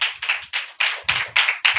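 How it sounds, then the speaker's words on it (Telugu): Hands clapping at a church gathering in rhythmic, evenly spaced bursts, about seven sharp claps in under two seconds, fairly loud and close, with a low murmur beneath some of them. "చప్పట్లు కొట్టండి."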